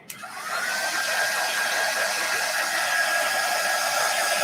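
A handheld dryer switches on with a click and blows a steady, close whooshing roar to dry a chalk paste transfer on a wooden garden flag.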